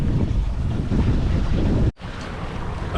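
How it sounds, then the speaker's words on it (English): Strong wind buffets the microphone aboard a sailboat at sea, a loud, roaring rush with water noise underneath, briefly cutting out for a moment before resuming. "Great wind."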